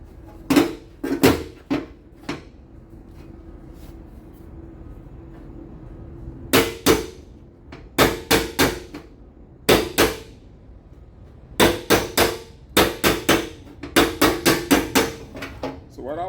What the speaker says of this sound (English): I could do my magic with the hammer